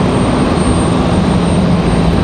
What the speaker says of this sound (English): Air France 787-9 Dreamliner.